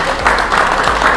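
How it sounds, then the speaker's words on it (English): Wedding guests break into a loud, sustained round of applause for a couple mid-ceremony, many hands clapping at once in a continuous, close roar. "So I think you need a big round of applause"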